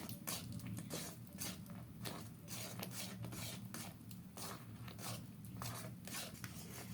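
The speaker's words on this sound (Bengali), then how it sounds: "নারকেলটা তালের সাথে ভালোভাবে মিশিয়ে নিচ্ছি" Grated coconut stirred into boiling palm syrup in a pan gives a steady scraping and clinking from the spoon, with a continuous bubbling hiss underneath; no talking.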